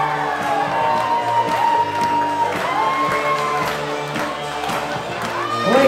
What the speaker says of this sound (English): A big round of applause for our bridesmaid Missy Lukaboo